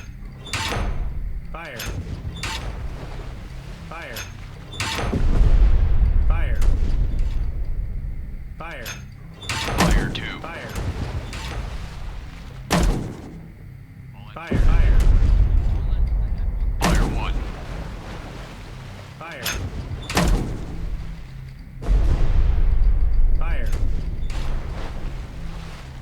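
Naval guns on a World War II destroyer hunting U-boats in Destroyer The U-Boat Hunter fire a series of heavy, separate booms with long rumbling decays, spaced a few seconds apart, while voices speak between the shots.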